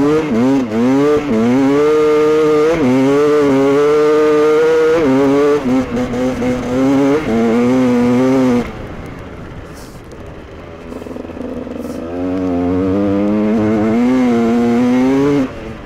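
A GasGas dirt bike engine revs hard and loud up close, pitch climbing and dropping through repeated throttle surges, then easing to a lower idle-like drone before rising again.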